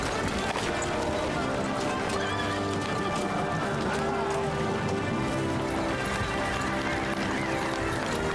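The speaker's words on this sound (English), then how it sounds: "Why am I riding a different horse than Pebbles?" A horse gallops under its rider in the video game Kingdom Come Deliverance 2, a steady, dense hoofbeat rhythm mixed with loud ambient game sound and music throughout.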